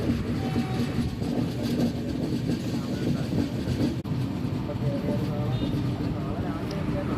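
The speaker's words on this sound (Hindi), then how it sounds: "दोस्तों हमारी ट्रेन सोलापुर में एंटर कर चुकी है।" Udyan Express passenger train rolling into Solapur station, a steady loud rumble with wheel clatter throughout, heard from on board while someone talks over it.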